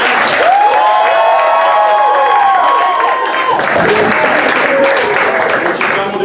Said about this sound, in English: Get some round of applause for Kathy.